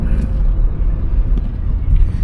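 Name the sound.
car engine running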